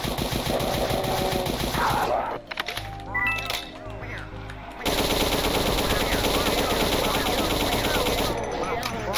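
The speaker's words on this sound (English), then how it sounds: "I'm actually surprised I'm using the nail gun more than I am." Rapid, continuous nail gun fire from the Doom mod Golden Souls, a dense mechanical rattle of shots running almost the whole time with a short break, over game effects and music.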